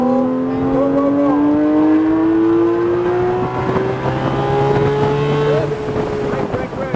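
A Porsche GT3 RS accelerates on a race track, its engine note climbing steadily in pitch as it pulls, with a coaching voice talking over the roar and wind buffeting.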